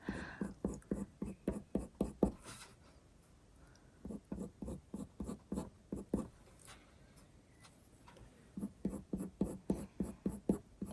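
Coloured pencil strokes on paper, black pencil going over brown fur in a drawing of a Cavalier King Charles Spaniel, give close, rhythmic scratchy scribbling in quick bursts with a short pause midway.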